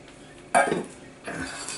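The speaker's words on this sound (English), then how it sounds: "Mix it nicely together." Cream being stirred into a boiling chocolate mirror glaze in a pot, with two short bursts of spoon scraping and clinking against the pot, close and moderately loud.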